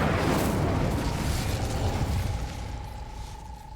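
The Incendio fire spell is cast in the video game Hogwarts Legacy, a loud whooshing burst of flame that roars at once and then slowly fades with a faint lingering hum.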